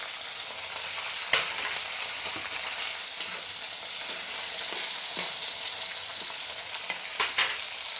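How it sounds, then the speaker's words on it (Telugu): Chopped onion, ginger and green chilli pieces with curry leaves fry in hot oil for upma, giving a steady, close sizzle throughout with a few sharp stirring clicks and scrapes. "ఉల్లిపాయ ముక్కలు అల్లం ముక్కలు పచ్చిమిరకాయ ముక్కలు అన్నీ కోసుకొని వేసుకున్నాము"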